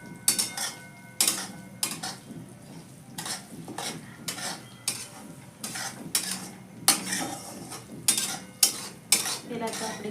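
A spoon repeatedly scrapes and stirs a ghee-roasted mixture in a pan, giving a series of loud, close, rhythmic bursts with soft sizzling between strokes.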